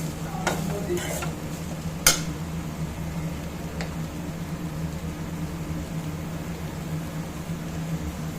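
Beans and green peas being stirred as they fry in a pan, a constant sizzle broken by a few sharp scrapes and clinks of the spoon early on, close and fairly loud.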